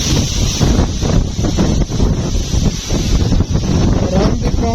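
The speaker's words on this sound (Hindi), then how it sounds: "इतनी तेज हवा चल रही है।" Strong wind gusting across open village farmland with date palms and a sesame crop under gathering dark clouds, buffeting the microphone in loud, rough roaring bursts throughout.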